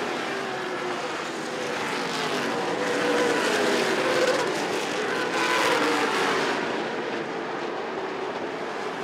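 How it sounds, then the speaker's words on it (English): Stock race cars in a Big 8 Series feature at Rockford Speedway roar around the track, a loud continuous engine drone that swells and fades as the pack passes close by. "How about the run for Tom Behrens of the 99 car?"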